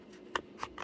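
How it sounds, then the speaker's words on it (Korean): Scissors cutting thick paper for a handmade mini figure drawer: a few short crisp snips, one sharp cut followed by two quieter ones, close and fairly faint with no talking. "가위로 잘라서"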